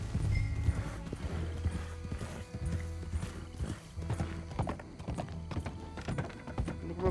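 A tired horse's hooves clop unevenly in Red Dead Redemption 2, with a neigh rising over the steps and a low game soundscape beneath.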